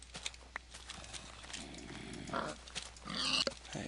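Pigs grunting in Minecraft, a few short low grunts and snorts spread across a quiet background, moderately close, with no talking.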